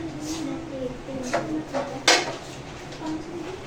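A metal lid set onto a pot of chicken yakhni, a few light clinks and one sharper clang of metal on metal over a low kitchen hum, with someone talking.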